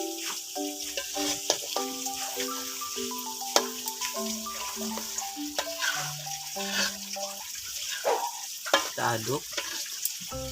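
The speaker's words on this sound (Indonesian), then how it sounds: "Kita aduk sampai pandannya meresap ke dalam minyak kemiri ini." Candlenut oil with pandan leaves is stirred, giving a continuous soft sizzle and liquid swishing with occasional clinks, while steady tonal music plays over it throughout.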